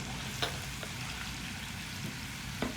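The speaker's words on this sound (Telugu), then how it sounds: "ఆయిల్ కాలిపోయింది, అందులో ముక్కలు వేసేస్తున్నాను." Vegetable pieces fry in hot oil for sambar, giving a steady, fairly quiet sizzle with a few faint crackles and pops throughout.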